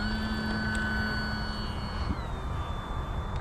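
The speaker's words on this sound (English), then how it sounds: "Let's take off and do some more." A taildragger airplane's engine drones steadily through a takeoff, a constant near hum with a faint tone that shifts slightly partway through, no voices.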